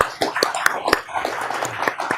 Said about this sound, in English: Please give them a clap for them.